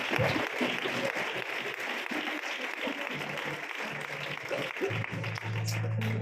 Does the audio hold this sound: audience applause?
yes